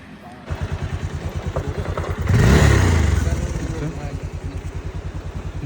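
Motorbikes, one of them an FZ, idle in a traffic jam on a Nepal road trip with a close, pulsing engine throb. One engine revs up briefly mid-way and then settles back, with voices over it.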